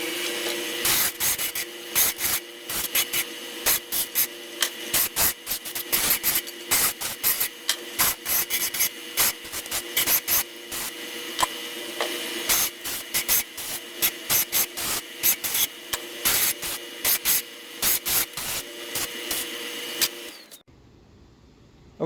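Edges of cut steel pieces cleaned up by hand before forging, a close, steady run of rough rasping strokes in quick rhythm for about twenty seconds, then silence, with no talking.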